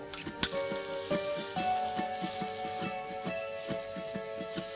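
Chopped onion and tomato fry in hot oil with a constant crackling sizzle, broken by sharp pops and scraping stirs at a fairly even rhythm, fairly close and moderately loud, no speech.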